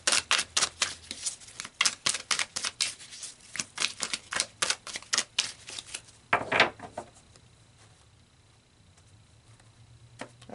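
Tarot cards are shuffled and slid off the deck in a quick run of crisp snaps and riffles for about six seconds, then one louder flurry as cards are pulled, before the sound fades to a quiet room.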